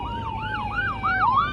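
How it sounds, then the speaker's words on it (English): Ambulance siren wailing in steady up-and-down sweeps as it passes a New Year's Day road cycling race, loud and close, with road noise beneath and no talk. "The ambulance is passing some emergencies, so we have to give way to the ambulance as it passes the race"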